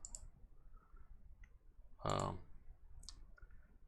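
Computer mouse clicks while working in a software interface: a few faint, sparse taps with one louder click burst in the middle, close and quiet against a low background.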